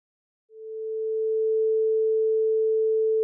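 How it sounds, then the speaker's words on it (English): A pure sine wave test tone begins after a short silence, fades in smoothly, holds steady at one pitch, then cuts off abruptly with a click. "Let's see what a sine wave looks like in this analyzer."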